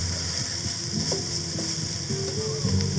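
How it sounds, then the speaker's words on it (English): Shiitake mushrooms frying in a pan for a creamy mushroom soup, giving a steady close sizzle with faint clinks and stirring scrapes throughout, no voices. "Just sweat them down for a couple of minutes."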